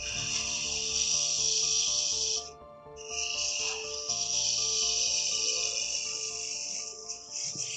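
Parting tool cutting into a spinning wooden holiday ornament on a woodturning lathe, a steady high hiss that briefly dips near the middle before resuming, close and continuous with no talk.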